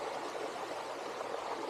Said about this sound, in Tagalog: Tapos may running water dito, may falls.